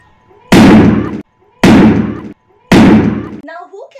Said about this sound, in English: Now let us take a balloon near the candle and observe whether it is giving a pop-up sound